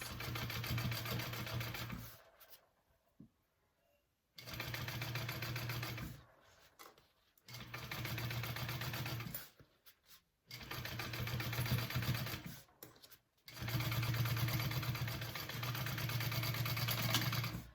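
Bursts of a sewing machine running fast as it stitches through the seam allowance of a bucket bag, several long steady runs broken by short pauses, close and continuous with a high whirring motor tone.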